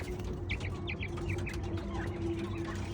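A 45-day-old female quail chick, newly starting to call, gives a run of quick, thin chirps in short bursts over a steady background hum, close to the microphone.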